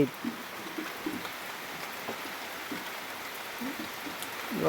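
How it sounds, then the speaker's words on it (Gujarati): Steady rain patters continuously on a surface, a soft broadband hiss with scattered drop sounds and no voices. "ત્યાં વરસાદ ચાલુ થઈ ગયો છે"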